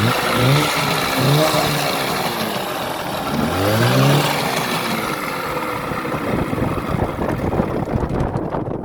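An 8hp Johnson two-stroke outboard motor running at full throttle, a loud, close, raspy steady drone with wind buffeting the microphone throughout.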